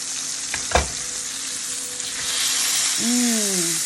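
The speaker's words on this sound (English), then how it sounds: "Hear that sear?" A steady, close sizzle of New York strip steak searing in a hot frying pan, crackling and hissing throughout with a faint tone rising near the end.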